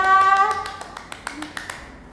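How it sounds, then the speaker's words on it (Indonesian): Children at an online church service clap their hands in a short, loose scatter of claps. The claps follow a sustained musical tone that fades out, and they are fairly light and spaced apart. "Kasih tepuk tangan nih buat Tuhan kita."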